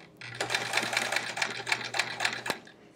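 A sewing machine stitches a quilt block in a steady, rapid run of needle strokes, close and fairly loud, ending with a sharp stop.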